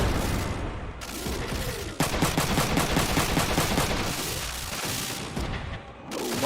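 Rapid bursts of gunfire fill a Front Mission 3 Reload battle, a dense, loud barrage of automatic shots with booming impacts running nearly continuously, easing briefly near the start and end.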